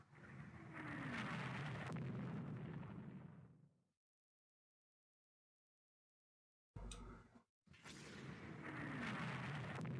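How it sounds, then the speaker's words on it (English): Heavy booming bursts of naval gunfire in the strategy game Rule the Waves 2 roll on continuously, then cut to silence for a few seconds before a brief blast and more sustained rumbling fire. "Lots of gunfire."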